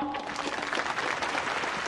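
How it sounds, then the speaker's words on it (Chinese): An audience applauds steadily to welcome a guest onto the stage at a prize-giving event, a dense, continuous clapping that fills the whole moment. "让我们一起掌声欢迎他上台，好不好？"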